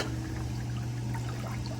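Backwash water from a pool filter pours out in a steady, continuous gush with a low pump hum underneath, close and unbroken.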